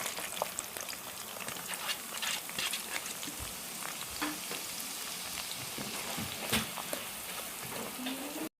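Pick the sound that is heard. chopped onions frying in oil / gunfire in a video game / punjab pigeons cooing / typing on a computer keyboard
chopped onions frying in oil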